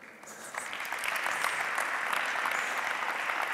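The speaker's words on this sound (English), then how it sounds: "give her an applause." An audience at a Latin dance lecture on Paso Doble body position breaks into steady applause that swells and holds, a dense wash of many hands clapping, moderately distant.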